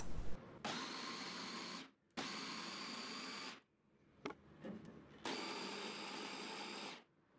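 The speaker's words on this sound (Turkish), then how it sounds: "kabuklarını soymuş olduğum kapya biberleri robottan çekiyorum" A food processor purees peeled red kapya peppers in three loud, steady whirring bursts, each lasting over a second, separated by brief pauses and a few clicks.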